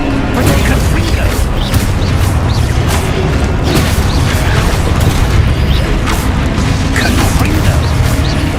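Confringo blasting spells fire again and again in Hogwarts Legacy combat, a dense, loud stream of booms and crashes layered with spell effects and battle noise, with shouted incantations over the top.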